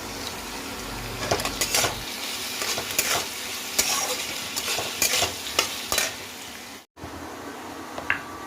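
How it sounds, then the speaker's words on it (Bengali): Onion and prawns fry in oil in a wok, a steady crackling sizzle broken by repeated scraping stirs and light clinks of the utensil against the pan, close and continuous for the whole stretch. "কড়াইতে আবার একটু তেল দিয়ে দিয়েছি, দিয়ে একটু পেঁয়াজটা অল্প একটু ভাজা হলে তার মধ্যে চিংড়ি মাছটা দিয়ে দেবো"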